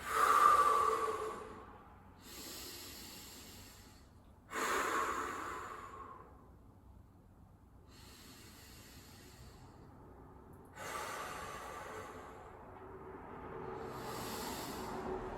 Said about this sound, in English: We're going to hold it for a few more deep breaths.